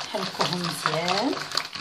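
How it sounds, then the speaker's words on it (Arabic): Cake batter for a simple no-oven everyday cake is stirred briskly in a bowl, soft scraping and sloshing beneath a person talking over it. "نحركوهم مزيان"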